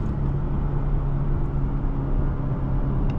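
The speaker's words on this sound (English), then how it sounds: "Very strong acceleration in this vehicle." A steady, low engine roar fills the space continuously, loud and close, as a 2023 Ford F-150 Tremor pickup truck accelerates with strong power.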